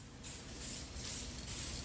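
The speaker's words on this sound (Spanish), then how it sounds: "los fuselajes de aluminio fueron pintados con aerosol negro" Black aerosol spray paint is applied to aluminum motorcycle bodies in four short hissing bursts, close and fairly loud, with brief pauses between each spray.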